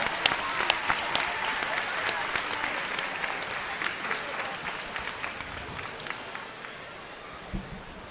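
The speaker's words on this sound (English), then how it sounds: "Let's give Donnie a big round of applause." An audience claps at a hall of fame induction ceremony in a hall, a sustained round of applause with scattered sharp claps that gradually thins toward the end.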